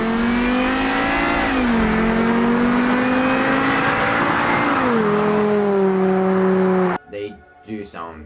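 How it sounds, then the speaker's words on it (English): A Volvo white block five-cylinder engine revs hard and loud, its warbling tone stepping down at each gear change as it pulls, before a voice briefly speaks at the end. "Volvo used their own white block 5-cylinder engines, which have a very distinctive noise, and by distinctive I mean they sound incredible."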